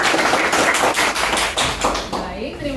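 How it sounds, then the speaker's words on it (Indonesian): A school class claps hands together in a fast, rhythmic patterned clap, loud and near, with sharp even beats that end in a short trailing voice. "Tepuk tangan dulu."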